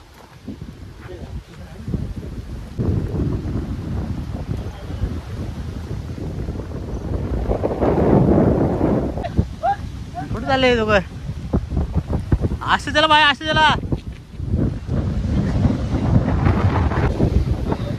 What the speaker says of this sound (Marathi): वारा इतका सुटलाय ना बेकार.